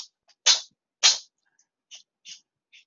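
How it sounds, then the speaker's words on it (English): A cat sneezes twice in quick succession, sharp and fairly close, followed by a few softer snuffling sneezes fading out, with no talk over them. "My cat is sneezing, right?"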